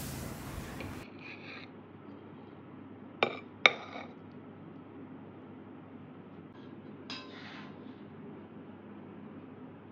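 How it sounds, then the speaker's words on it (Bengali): Prawn and pointed gourd curry is scooped from a wok into a bowl: a short scrape, then two close metallic clinks and a later soft scrape in an otherwise quiet kitchen. "চিংড়ি পটল কড়াই থেকে এই পাত্রে তুলে নিচ্ছি বন্ধুরা"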